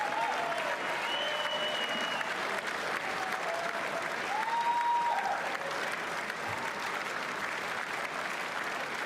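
A packed congressional chamber fills with sustained applause during the 2026 State of the Union address. The clapping is a broad, steady roar for about nine seconds, with faint voices mixed in.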